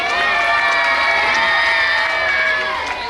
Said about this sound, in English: Let's cheer for him louder,